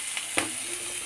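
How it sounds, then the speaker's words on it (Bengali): Eggplant and potato pieces drop into hot oil and crackle with a brief burst of sizzling that settles into a steady hiss. "এখন কিন্তু এইটা সবজিটা বেগুন এবং আলু আগে তেলে গেলো"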